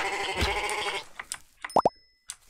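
Sheep in the Minetest game MineClone5 give a few short, close bleats, following a louder burst of game sound and a plopping noise.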